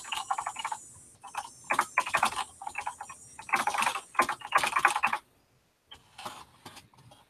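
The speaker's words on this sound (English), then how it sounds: "minus all of my bad typing" Clattering keystrokes on a computer keyboard in irregular quick bursts, close and crisp, with short pauses between runs and a quiet stretch near the end, no voices.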